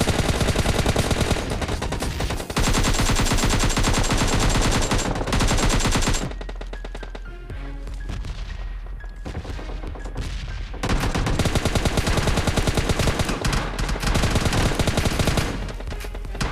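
Gunfire in the mobile battle-royale game PUBG Lite: loud, dense bursts of automatic fire that run almost without a break, with a brief, slightly quieter stretch in the middle before the shooting builds again.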